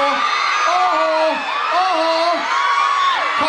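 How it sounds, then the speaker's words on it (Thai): A crowd screams and cheers loudly at a cover dance performance during a Yamaha Fino campaign launch event, piercing high shrieks rising and falling in waves over a steady roar. "แล้วจะกรี๊ดเขายังไม่ได้พูด แล้วจะกรี๊ดทำไม"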